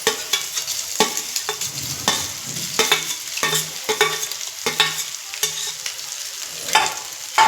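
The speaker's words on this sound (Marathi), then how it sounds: "आणि छान पुन्हा एकदा परतून घ्यायचं" Egg masala with chopped boiled eggs being stir-fried in a pan, with repeated scraping and stirring strokes over a steady close sizzle, no voices.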